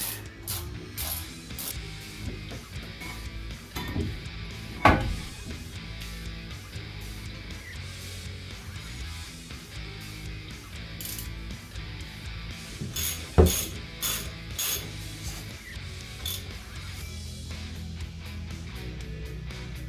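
Ratchet clicking steadily for about twenty seconds while bolts fitted with copper washers are tightened on a Jeep Wrangler's brakes, close and fairly loud, with a couple of sharper knocks.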